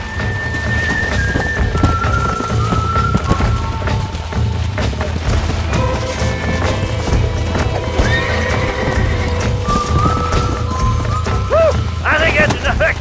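Horse hooves clip-clop in the Red Dead Redemption video game, with whinnies and neighs over steady outdoor ambience and occasional speech, loud and close throughout.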